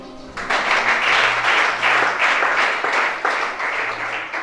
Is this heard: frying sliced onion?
no